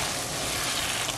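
Glutinous rice being cooked and stirred in a pan for suman malagkit, a steady close hissing sizzle throughout with no pause.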